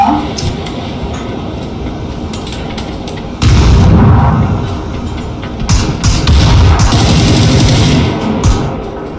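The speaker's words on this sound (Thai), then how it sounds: "ปาระเบิดลงไปได้ไหม" Grenade blasts in the PUBG video game: loud booming explosions with a rumbling low end, one heavy burst midway and more clustered blasts after, with gunfire-like crackle and some voices around them.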